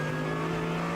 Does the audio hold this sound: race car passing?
yes